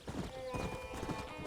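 A horse's hooves clip-clop at a steady trot in Red Dead Redemption on Nintendo Switch, a close, even rhythm of repeated hoofbeats over a constant game background hum, with no talk.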